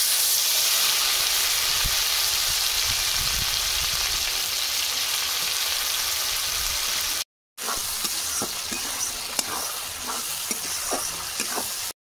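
Ground spice paste and whole spices sizzle steadily in hot oil with a loud, dense frying hiss, briefly cut off partway through, then returning with crackling pops and stirring.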